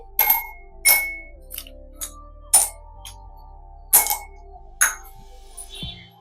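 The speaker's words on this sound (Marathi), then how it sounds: "आता मी याच्यामध्ये बर्फ टाकते." Ice cubes drop one by one into a glass of raw mango panha, giving about seven sharp, bright clinks spaced unevenly over several seconds against a faint steady hum.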